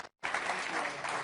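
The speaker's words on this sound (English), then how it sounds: "I don't know if you can hear the applause" Faint audience applause at an international economic summit, a short gap of silence and then steady, distant-sounding clapping from the hall.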